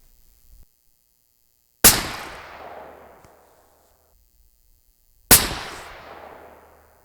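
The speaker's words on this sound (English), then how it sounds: "All right, let's see if we can shoot a group." Two loud, sharp rifle shots from a .300 Win Mag firing 230-grain Hornady A-Tip bullets loaded with RL 26, several seconds apart, each a crisp crack followed by a long rolling echo fading into near silence outdoors.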